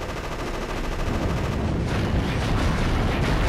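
Dense, continuous rattling gunfire pounds at a generator in the video game Future Cop LAPD, loud and unbroken with no voices.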